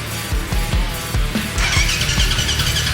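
KTM engine fitted in a Honda TRX450R quad firing for the first time: loud, close cranking chugs at a steady rhythm, then the engine catches into a rough, raspy idle with squealing tones.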